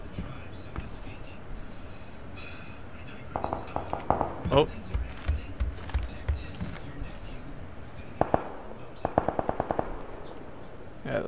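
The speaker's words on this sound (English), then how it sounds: "Oh, there's gunshots." Distant bursts of gunfire crack in the video game PUBG as rapid clustered volleys, heard under quiet, close talk between players.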